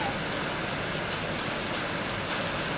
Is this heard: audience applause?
no